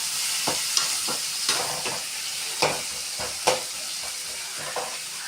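Chopped tomatoes sautéing in a pan with ginger and garlic, a steady bright sizzle broken by several scraping stirs of a spatula at close range.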